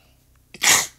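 A single sharp sneeze bursts out close and loud, preceded by a quick intake of breath, in a Roblox Brookhaven game session.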